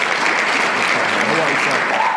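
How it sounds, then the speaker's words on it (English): A talk show studio audience applauds a guest in a short, dense wash of clapping at steady volume, with a faint voice murmuring underneath. "round of applause for Mr. Sterling"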